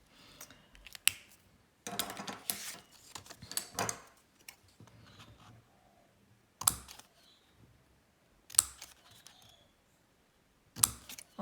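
Cutting paper Katta dividers along marked lines with a cutter knife: sharp close scraping cuts in short bursts separated by quiet pauses, a few crisp clicks, no speech.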